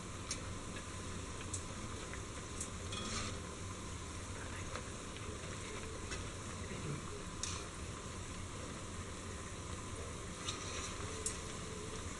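Kerala parippu vada, lentil fritters, fry in hot oil with a continuous soft hiss and scattered faint crackles, steady and unbroken throughout at low level.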